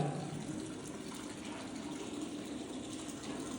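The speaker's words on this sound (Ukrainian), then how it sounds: "Пів відра вже натекло. Це що за водоспад домашній?" Water leaking from a warm ceiling pours steadily into a half-full bucket indoors, a continuous close splashing and gushing that stays even throughout. No one speaks.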